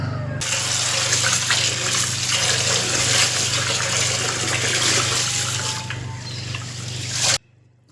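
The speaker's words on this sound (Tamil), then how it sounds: "இது எல்லாத்தையும் நல்லா சுத்தமாக கழுவி எடுத்துக்கலாம்" Rice, lentils and fenugreek seeds being washed under running tap water into a vessel in a home kitchen, a steady close rush of water with faint stirring and splashing, cutting off abruptly at the end.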